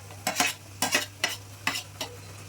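A spoon scrapes and stirs through tomatoes sautéing in a pan of chicken curry, with a low sizzle underneath. The strokes come close and steady, about five or six in a rhythmic pattern, and nobody talks.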